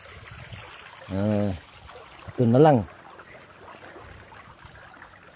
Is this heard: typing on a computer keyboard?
no